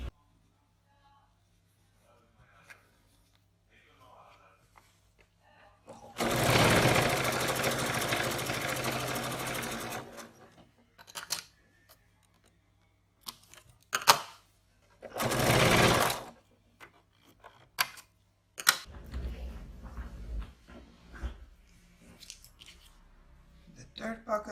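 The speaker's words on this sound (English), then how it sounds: "place it on the line we drew, clip or pin, and stitch on this line" A sewing machine stitches a pocket onto fabric in a few loud bursts, a long run and then a shorter one, separated by quiet gaps with faint handling noises and soft clicks.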